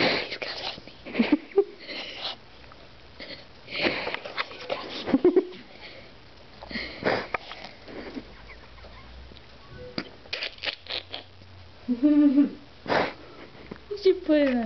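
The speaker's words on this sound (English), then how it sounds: "He's got a sneeze." A pet sneezes and sniffles in several short, sharp nasal bursts and snuffles spread unevenly, close up, with people talking and laughing around it.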